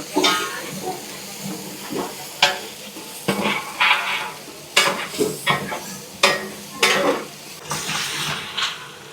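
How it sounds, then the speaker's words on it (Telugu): Chicken roast is stirred into a pan for Bhimavaram-style dhoopudu potu biryani at an Andhra street food stall, with irregular scraping strokes and metal clatter over a soft sizzle, up close. "పక్కన చూడండి చికెన్ రోస్ట్ కూడా కలుపుతున్నారు"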